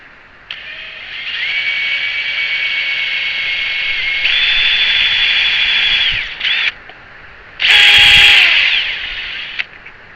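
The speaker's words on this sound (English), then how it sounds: "little bit of pre-drill here." A power drill pre-drilling a hole whirs loudly in a long steady run, stops briefly, gives a short burst, then revs again at a higher, strained pitch before cutting off.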